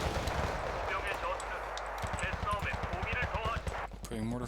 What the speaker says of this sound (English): Putting mortar fire onto that target.